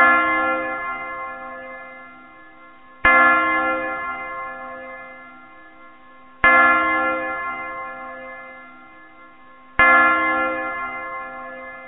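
A church bell tolls four slow, evenly spaced strikes, each ringing out loud and clear and then decaying into a long humming tail, with no other sound around it.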